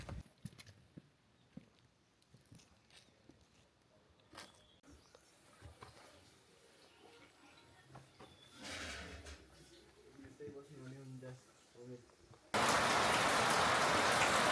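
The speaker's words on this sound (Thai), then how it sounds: "ก็ฝนค่ะ มาเลยประมาณนี้" Rain falls at Forest Camp, a lunch stop on the Mardi Himal trek in Nepal in May, starting as soft patter and building into a loud, steady downpour over the last couple of seconds.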